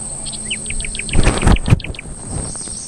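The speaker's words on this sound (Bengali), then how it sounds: "একটু আপনারা দেখেন, শুনতে পারেন কিনা পাখির শব্দ।" Birds singing deep in the Sundarban mangrove forest, a run of clear repeated chirps and whistles with insects droning steadily beneath and a few louder rustles midway.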